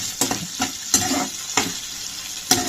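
Poppy seeds frying in a pan for paneer masala curry, a continuous close sizzle with a utensil stirring and tapping the pan in short, irregular bursts.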